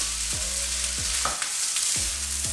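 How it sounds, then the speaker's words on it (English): Fried rice sizzling steadily in a hot pan while broken-up eggs are folded through it, with a few soft scraping strokes of a utensil over the constant frying hiss. "You break it apart a little bit and just fold into the fried rice."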